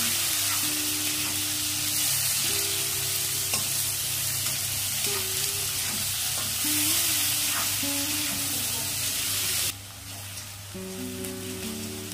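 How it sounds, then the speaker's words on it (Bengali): Two medium chopped onions and a large crushed garlic clove fry in oil until reddish, a steady close sizzle with occasional stirring scrapes and clinks of a spoon in the pan, with no talk. "পেঁয়াজগুলো লাল লাল করে ভেজে নিয়েছি।"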